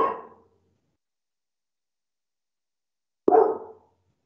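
A small dog barks twice, each a single short bark standing alone, separated by about three seconds of silence.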